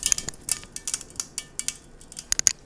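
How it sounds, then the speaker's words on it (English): Brittle, hardened caramel for a lemon flan cracks and clinks in a pan, a scattered series of sharp little snaps close by with no voices. "That's the sound of the caramel breaking up because"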